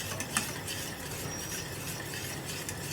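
Thick ragi porridge is stirred in a pan, giving a steady soft scraping and swishing with a faint sizzle and an occasional light clink of the spoon, and no talk.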